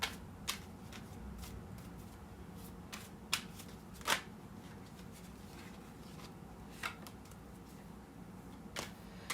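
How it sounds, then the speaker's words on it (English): Tarot cards being shuffled by hand, soft repeated riffling with a few sharper snaps and flicks, close and quiet with no talking. "And that card flipped right over as I was shuffling."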